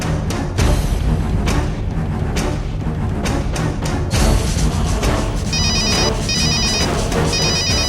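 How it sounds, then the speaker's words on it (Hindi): A telephone ringtone repeats in short, bright bursts during the second half, sitting over a dense, busy background din in a household scene from a Hindi TV serial. "मैडम का जब देखो जब फोन बजता रहता है"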